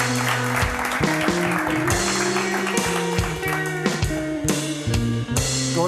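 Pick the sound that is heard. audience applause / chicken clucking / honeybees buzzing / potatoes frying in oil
audience applause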